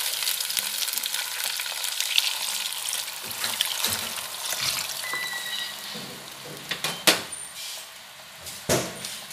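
Chicken sizzles and fries steadily in a hot pan while Sprite is poured in, with stirring scrapes and a few sharper clinks near the end, fairly close and continuous.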